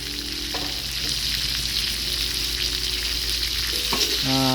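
Chicken sizzles and fries in a pan with cabbage, tomato and kaffir lime leaves while being stirred, a steady close hiss broken by scraping stirs, with no talking.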